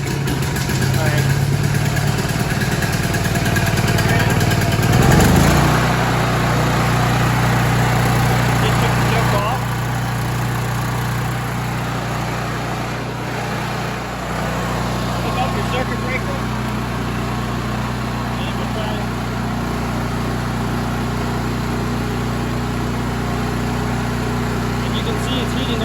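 A Honda EM6500 generator engine cranks over loudly and catches near the start, then settles into a steady, close running drone that continues alone for the rest of the stretch.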